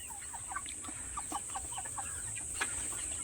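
Black Australorp chickens on a farm give repeated short clucks at a moderate distance, scattered irregularly over a steady background hiss.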